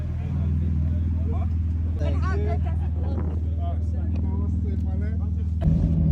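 A Porsche GT2 RS sports car drives with a deep, steady engine drone that swells near the end, heard from close by with people talking over it.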